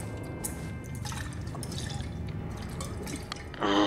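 Water splashing and trickling as it is poured out in a Call of Duty: Modern Warfare captive scene, with close, wet dripping over a dull background and a brighter splash near the end, with no voices.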